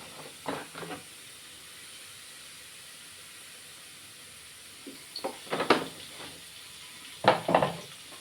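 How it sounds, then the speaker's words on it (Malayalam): Okra frying in oil in a pan for a masala curry: short bursts of crackling sizzle and stirring come in three clusters, with quiet gaps between them and no voices. "എന്നിട്ട് അത് നമുക്ക് കുറച്ച് എണ്ണ ഒഴിച്ച് നന്നായി ഒന്ന് ഫ്രൈ ചെയ്യാം."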